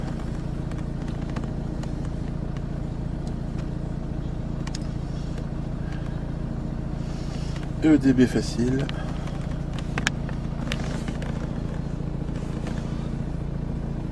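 A Renault car engine idles with a low, steady hum that runs under someone speaking French, with a brief clatter of handling noise midway.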